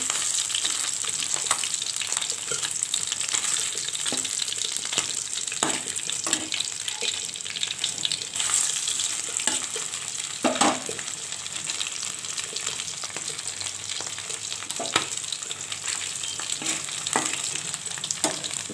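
Fish fries in hot oil in a pan, giving a continuous close, crackling sizzle with occasional louder pops and stirring, and no voices.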